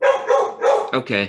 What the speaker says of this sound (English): Whoa, that's a dog.